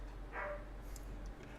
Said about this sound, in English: My dogs are going off on something.